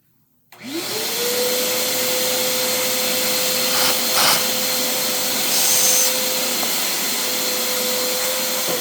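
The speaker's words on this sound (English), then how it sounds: "All right, I'll give that a quick clean up." A vacuum cleaner starts up and runs steadily at close range with a constant whine, used to clean up during a thread insert installation job.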